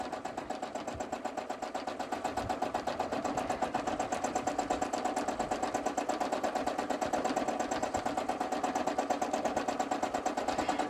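A sewing machine stitches thread curlicues on fabric, running with a fast, steady mechanical chatter, close and continuous without pause throughout.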